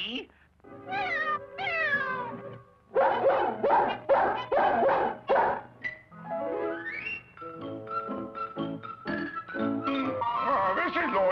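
Cartoon dog in a classic animated Woody Woodpecker episode gives a run of yelping barks and drawn-out whimpering, whiny vocalizations, likely voiced by an actor, loud and close with short pauses between bursts.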